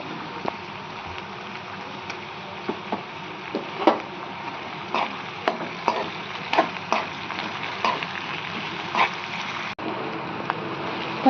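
Flat green beans and tomato fry in hot oil with chili powder, a steady sizzle broken by irregular crackling pops and spits.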